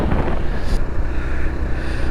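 Strong, steady wind in a mountain valley on the Manali to Sarchu route roars and buffets the microphone with a deep rumble, continuous and loud throughout, with no voices.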